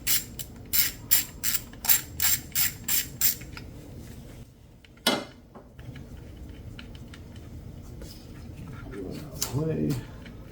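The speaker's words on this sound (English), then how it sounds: "Pop out this bolt." A ratchet wrench on a Nissan Xterra removing a bolt: about nine evenly spaced, loud ratcheting clicks close up, followed by a clunk, small handling noises and faint rustling.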